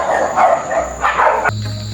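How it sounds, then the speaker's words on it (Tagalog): Dogs fighting near a mountainside home, a run of loud close snarling barks and growls in quick bursts, ending abruptly with a lower humming tone. "nag-aaway na aking mga aso doon"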